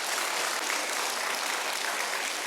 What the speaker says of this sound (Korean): 우리 선생님들을 위해서 여러분 큰 박수 한번 해주세요.